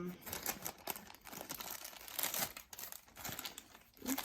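A well-wrapped parcel holding a secondhand diamond painting is torn open, its wrapping crinkling and rustling in steady, close bursts throughout with no break.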